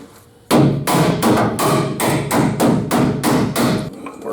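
Seven sharp hammer blows in a steady rhythm, loud and close, ringing briefly after each strike with nothing else heard, while fitting lowering leaf springs on a 1951 Ford F-1.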